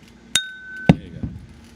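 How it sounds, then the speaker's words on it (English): Glass clinks together in three sharp, ringing taps spaced under a second apart, close and distinct against a quiet room with no talking. "Oh, that's glass. Oh, I was about to say, I kept hearing the ting."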